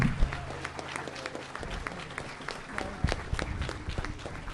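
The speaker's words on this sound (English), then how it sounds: "let's give a huge round of applause to our speakers" Audience at a Christianity versus secular humanism debate claps for the speakers, scattered applause with individual claps near and far, some faint voices and shuffling mixed in.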